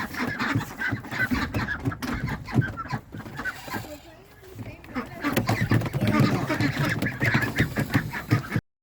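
A busy flock of about eleven ducks quacks and clucks continuously nearby while being carried, briefly quieter midway, with handling noise and a voice mixed in.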